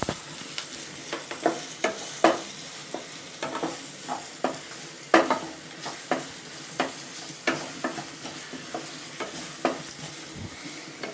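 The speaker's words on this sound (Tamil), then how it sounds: "ஆனியன்ஸ் போட்டுடலாம்." Onions stirred and fried in a pan with ginger, garlic and chilli while making fish vadai, giving steady sizzling broken by irregular scraping strokes of a spoon, close and moderately loud, with no talking.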